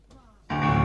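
Warm applause from the audience at an Italian Immigrant Day celebration bursts in loud and dense about halfway through, after a quieter stretch with a faint voice.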